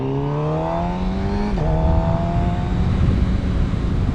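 A Suzuki GSX-R750 motorcycle engine drones loudly at speed with a rising whine, briefly dips during a quick-shifted gear change, then pulls strongly again, heard close from the rider's position.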